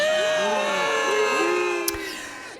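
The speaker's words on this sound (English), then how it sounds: "That is the sound of North Yorkshire anti-fracking protesters back in 2016" Anti-fracking protesters in North Yorkshire in 2016, a crowd chanting and shouting together in steady sustained voices, loud and close, with one brief sharp knock near the end.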